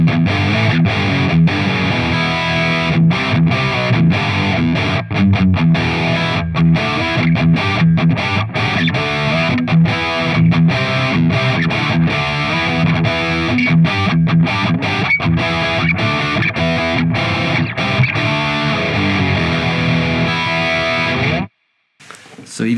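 Dense, saturated high-gain electric guitar through an Engl Powerball amp model on an iPhone, heavy riffs with a thick distorted crunch, loud and continuous before cutting out abruptly near the end.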